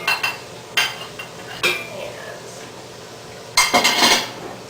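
Chopped garlic and ginger tipped into a cooking pot for butternut squash soup: a few close clatters of utensil against metal, with scraping and a louder jumble of clinks near the end.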